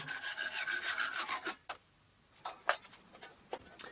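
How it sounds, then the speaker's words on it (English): A hand saw rasping through an exotic hardwood floorboard in quick back-and-forth strokes, then a pause followed by a few scattered scrapes and knocks. "I'm using an exotic hardwood floorboard as a handle, and I'm sawing a piece off now."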